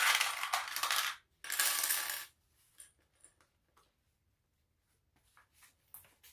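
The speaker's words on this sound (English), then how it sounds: "So now we're going to clip this whole lining to the exterior" Sewing clips fastened around a bag lining against the exterior of a sling pack: two rustling fabric bursts, then a scattered series of faint, small plastic clicks.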